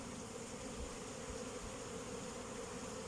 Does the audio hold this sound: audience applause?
no